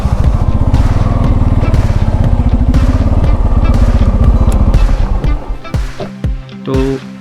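A motorcycle engine runs loud and close on a cold Himalayan road to Om Parvat near Nabhidhang, then drops away and falls quieter in the last couple of seconds as the bike is brought to a stop and parked.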